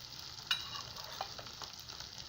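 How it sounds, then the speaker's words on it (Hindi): A spoon stirs palak paneer gravy paste frying in a pan, giving a steady soft sizzle with light scraping taps from the spoon. "इसमें हम बीच बीच में चम्मच चलाते रहेंगे ताकि ग्रेवी नीचे बैठे ना।"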